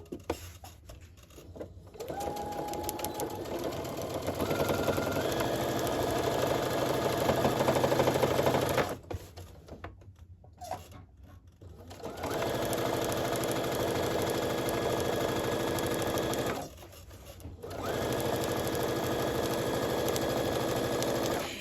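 A sewing machine runs in long continuous stitching bursts while quilting sashing a quarter inch from a seam on a quilt-as-you-go cat quilt, pausing briefly between runs, steady and close.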